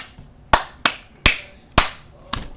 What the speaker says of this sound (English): Naruto can hear that clapping.